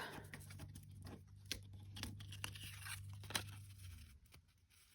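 Scissors snip the small corners off paper in a few faint, close, crisp cuts with light papery rustle between them, quiet and alone.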